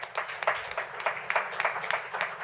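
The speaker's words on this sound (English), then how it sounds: "I think we should give her a round of applause." A small audience at a college district board meeting claps for a retiring staff member, the hands sounding as scattered, rapid, fairly faint applause that fills the room.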